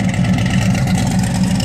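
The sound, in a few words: 1971 Camaro engine with open cutout exhaust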